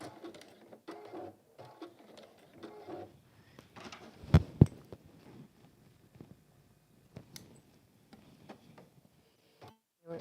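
A sewing machine stitches a velvet folded pouch, running off onto a spare piece of fabric in short bursts of rapid ticking, with one louder clunk midway and quiet pauses between runs.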